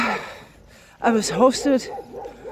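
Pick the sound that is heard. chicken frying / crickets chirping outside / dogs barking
dogs barking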